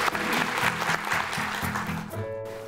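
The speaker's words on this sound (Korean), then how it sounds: "박수 좀 주세요." An audience at a Korean lecture breaks into applause, dense clapping that carries on steadily before thinning out at the end, with a faint tone joining the tail.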